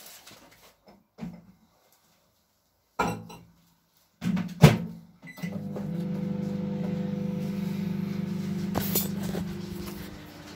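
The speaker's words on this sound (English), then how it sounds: "Warm me wee milk in the microwave." A few clunks and a door-like thud, then a microwave heating milk starts a steady, loud electrical hum that continues to the end.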